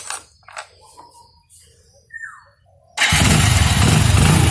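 A motorcycle engine, its spark plug freshly cleaned, is started after a few quiet clicks and handling noises, then catches at once and keeps running with a loud, steady roar.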